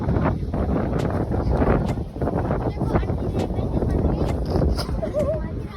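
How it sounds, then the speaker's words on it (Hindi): Strong wind roars and buffets the microphone in a constant low rumble, with voices talking underneath. "यहाँ पे ना इतनी ज़ोर से हवा चल रही थी"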